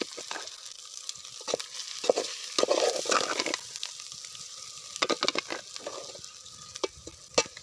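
Egg masala gravy is stirred in a pot over a fire outdoors in a forest, with scraping spoon strokes and a soft sizzle coming in irregular, close bursts, and no voices.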